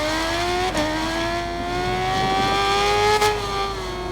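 Engine braking on a 2007 Suzuki GSX-R1000 in the Ride 5 racing game: a loud, steady engine drone with falling and rising pitch and brief blips, close and continuous without talk.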